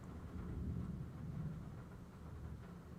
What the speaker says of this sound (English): You guys can listen in on the thunder when it hits.